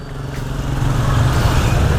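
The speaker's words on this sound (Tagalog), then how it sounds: "ang lakas ng makina" Honda PCX 160 scooter engine, carrying a passenger, a top box and a near-full tank, hums as a low, steady rumble that builds slightly in loudness over two seconds, heard close and on its own.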